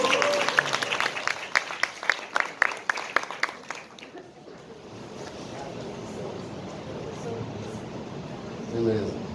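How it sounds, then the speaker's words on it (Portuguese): Audience applause at a poetry reading, crisp clapping for the first four seconds that fades into quiet room noise, with a voice faintly heard near the end. "Aplausos para vocês."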